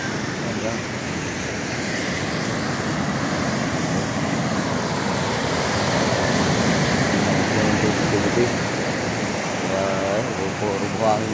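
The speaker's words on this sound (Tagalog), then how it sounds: "Ang laki po ng tubig" A large volume of water rushes and surges like breaking waves, a constant loud roar filling the whole stretch, with a faint voice briefly audible near the end.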